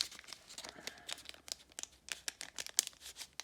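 Pokémon cards are pulled out of a crinkly foil booster wrapper, a close, quiet run of irregular crackling and rustling bursts.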